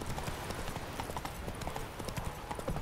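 A horse's hooves clip-clop in a fast, steady rhythm of close repeated strikes in Witcher 3, running continuously over a low rumble of game ambience.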